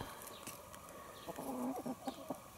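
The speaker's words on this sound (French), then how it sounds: "Voici Eden, le jeune coq bleu," A young blue Brahma rooster gives a few short low clucking calls partway through, close by against quiet farmyard background noise.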